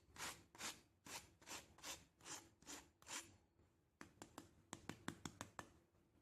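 Crispy fried aloo tikki being handled: a run of rhythmic crunchy scraping strokes, then a quicker series of sharp crisp crackles and taps, close up with no talking.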